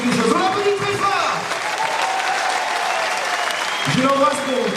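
A gala audience applauds a singer with steady, fairly loud clapping throughout, while a voice speaks over it near the start and end.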